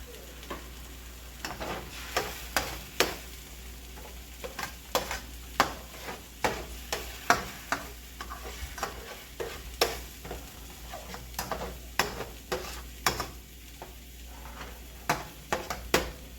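Eggs frying in a pan for fried rice, with the vegetables pushed to one side, give a steady low sizzle broken by frequent sharp scraping and tapping strokes. Nobody talks.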